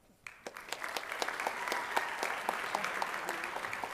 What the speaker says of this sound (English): One more big round of applause for Caspin and for Braden.